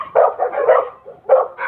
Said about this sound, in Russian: Собаки недовольны, что щенки гуляют